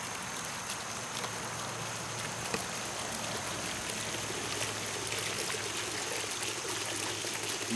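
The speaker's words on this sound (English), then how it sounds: "it does have that nice sound with water falling on water." Continuous splashing and trickling of water falling from a basalt stone bowl fountain into a pool, water falling on water, steady and close, with no voices.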